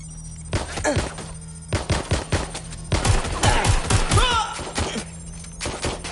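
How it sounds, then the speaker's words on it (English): Gunfire in Watch Dogs Legion, bursts of loud shots and thuds coming in irregular clusters, with a dense rapid volley near the middle and scattered single cracks before and after, under a faint steady hum. "They're shooting at us"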